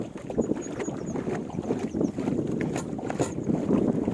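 A boat engine drones steadily at close range, its low rumble mixed with wind buffeting the microphone.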